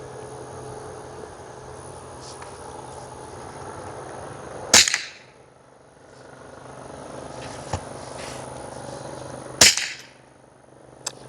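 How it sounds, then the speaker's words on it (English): Two sharp, fairly quiet cracks ring out several seconds apart from a rifle fitted with an Anechoic X22 suppressor, each a crisp snap with a short decaying tail over faint background hum. "That's shooting suppressed."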